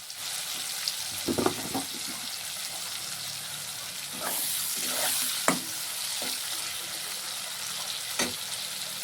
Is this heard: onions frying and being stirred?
yes